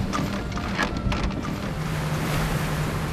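Fishing boat at sea off the west coast of Korea paying out a 300 m gizzard shad net into the water, with a steady rush of water and wind and a low engine drone running continuously throughout.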